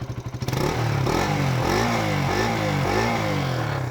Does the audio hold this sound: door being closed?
no